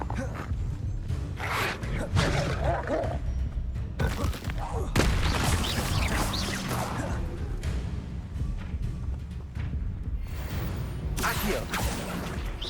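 Incendio fire spells cast again and again in the Hogwarts Legacy video game, heard as loud whooshing bursts and booming blasts over a constant roar of game effects, with a few sharper impacts along the way.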